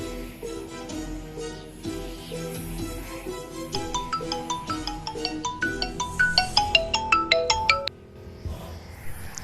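A melodic phone ringtone, repeating bright rising notes, plays clearly for several seconds over a steady music bed in an Assamese action-comedy short film, then stops abruptly.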